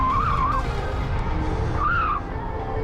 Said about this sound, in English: Those brakes look insane. They're so loud, jeez. It's tire spin again and again.